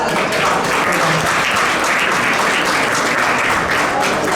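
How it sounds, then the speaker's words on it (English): An awards gala audience gives sustained applause, a thick continuous wash of many hands clapping at constant loudness, with a faint murmur of voices beneath. "Please give them a round of applause."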